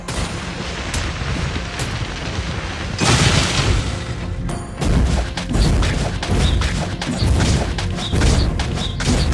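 Booming impacts and heavy thuds as a turret is destroyed in a team video game match, loud, dense crashing blasts with a sharp burst partway through and continuing rumble.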